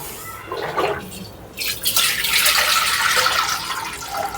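Water splashes and gushes into a cooking pot for half-boiling biryani rice, a brief trickle followed by a steady, close pour that runs on without talk.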